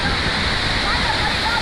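Na Mueang Waterfall on Koh Samui, Thailand, pours in a dense, steady roar of rushing water that stays loud and unbroken from start to finish.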